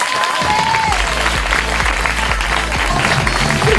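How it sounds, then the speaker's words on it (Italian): Applause from an audience at a beauty pageant selection evening, held at a villa in Stra near Venice, with steady loud clapping throughout and a rhythmic music beat pulsing underneath. "Un bel applauso!"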